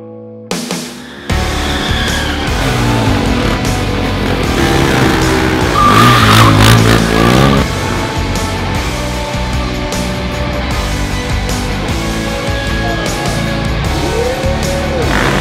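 A car engine revs hard at full throttle inside an arena, a loud sustained roar with tire squeal and skidding, climbing in pitch through the middle and holding steady under loud music.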